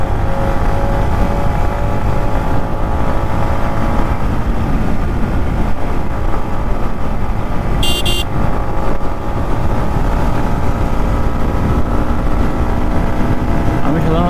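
A Yamaha MT-15 V2 motorcycle is ridden hard at speed, its engine droning steadily and loudly under constant wind buffeting throughout.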